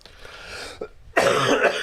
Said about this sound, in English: anytime you hear me cough, it's not it's not COVID.